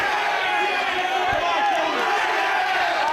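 A wrestling crowd cheers in approval during a match featuring Kenny Omega, a steady roar of arena noise running throughout beneath a commentator's voice.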